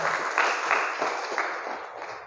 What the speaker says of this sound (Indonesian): semangat, tepuk tangan untuk Pani dan Johannes